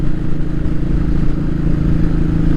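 A Royal Enfield 500 motorcycle cruising on the road, its engine a loud, steady low-pitched thump and rumble with no talking.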